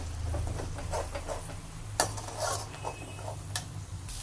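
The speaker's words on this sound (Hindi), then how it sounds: "और अब हमने इसको फुल फ्लेम पे अच्छी तरह भूनते हुए पकाना है" Paneer masala being roasted over a full flame, with a steady low frying hiss under scattered clinks and scrapes of a utensil stirring in a pan, one sharper knock standing out.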